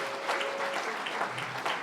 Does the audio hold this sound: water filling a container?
no